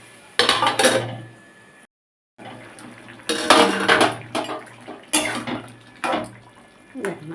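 A lid clanks onto a pan of ridge gourd, aubergine and potato curry, with loud close metallic clatters and clinks in several bursts separated by short pauses.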